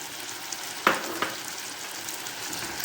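Potatoes and finely chopped onion frying in oil for a Spanish potato omelette, a soft, even sizzle with a couple of sharp stirring scrapes near the start.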